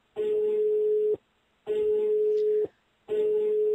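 A telephone tone from an old hotel phone in the video game Rusty Lake Hotel: a steady mid-pitched tone sounds in three even bursts of about a second each, separated by short silences.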